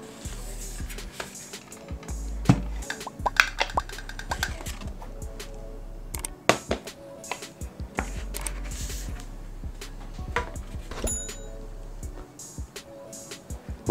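A whisky bottle is unpacked from a thick, dense cardboard tube: scattered dull knocks, scrapes and rustles of stiff cardboard, close and intermittent, with someone talking throughout.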